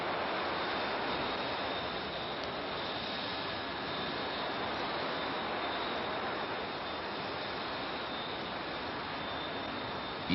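Aircraft engines drone steadily during a night flight, a constant broad roar with no breaks and a faint high whine, heard as if from inside the plane, with no other sounds over it.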